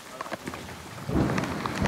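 Heavy rain squall pouring onto a boat deck at night, a dense steady hiss of drops that swells louder halfway through with close spattering impacts, no voices.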